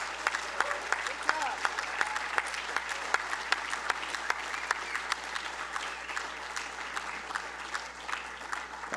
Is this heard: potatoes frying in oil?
no